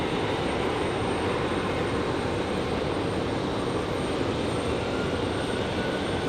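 A jet airliner at Raleigh-Durham International Airport taxiing toward the runway threshold, a steady broadband engine roar and hiss holding evenly at moderate loudness throughout, no talking.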